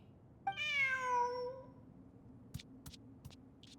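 A cat meows once in Genshin Impact, a clear rising-then-falling cry lasting about a second, followed by a few faint clicks and taps against a quiet background.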